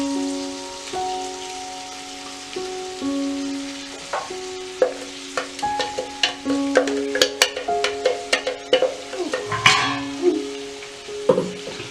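Onion paste and chicken fry in a pan with a crackling sizzle, and a spoon makes frequent rhythmic scrapes and clacks that grow busier toward the end.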